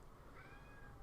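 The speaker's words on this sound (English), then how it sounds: "You will probably hear a cat in the background." A cat meows once in the background, a faint, drawn-out wavering cry over a steady low room hum, with no talking.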